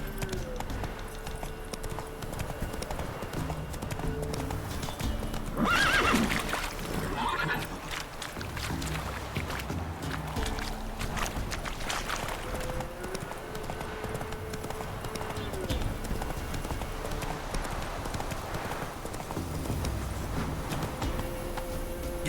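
Horse hooves clip-clop steadily at a riding pace in The Witcher game, a continuous rhythmic trot with a brief whinny near the start, set against game ambience and music.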